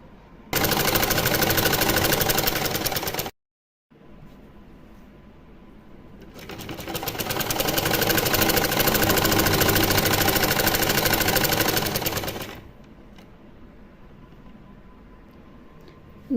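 A sewing machine stitches lace onto a net fabric cap for a small Laddu Gopal outfit, running in two long, loud, steady whirring bursts separated by a short pause, then falling to a quieter hum.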